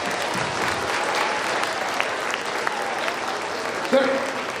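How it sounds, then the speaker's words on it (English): An audience at a school Think Kindness presentation claps for the school committee, a sustained, even round of applause with a brief voice rising out of it near the end. "So if we can give a big round of applause for our school committee."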